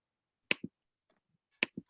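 Two sharp double-clap bursts from one person joining a video call, separated by about a second of near silence, close and fairly crisp.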